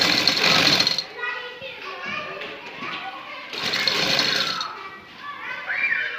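Sewing machine stitching piping along a kameez neckline, bursts of close machine rattle alternating with quieter stretches while a voice talks over it.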